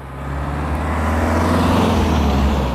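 A car driving past on a road being secured by firefighters during a fire call with a hose line laid across the street, a steady close engine rumble that swells and holds loud throughout, with no talk.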